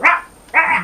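A person imitates a dog with two quick, loud bark-like yaps in close succession, sounding near and alone with no other voices.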